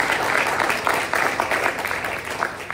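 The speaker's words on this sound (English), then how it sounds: "give yourselves a round of applause in that space." Audience applause at a food and farm policy award ceremony, a continuous rattle of clapping from a crowd that holds steady and eases slightly by the close, with no talk.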